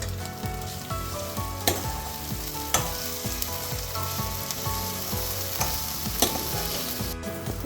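Masala for brinjal kara kulambu sizzles as it is sautéed until golden brown, with a steady close frying hiss and occasional sharp taps of a stirring spoon against the pan.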